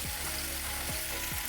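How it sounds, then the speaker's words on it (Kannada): Mackerel frying in oil in a pan, a soft steady sizzle with a few faint spatula scrapes, brief and quiet. "ಬಂಗಡೆ ಸ್ವಲ್ಪ ಫ್ರೈ ಮಾಡ್ಕೊಳ್ಳ."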